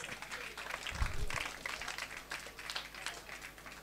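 Scattered applause rises from a small crowd at a cycling race award ceremony as a rider steps onto the podium, faint and somewhat distant, with someone speaking over the clapping.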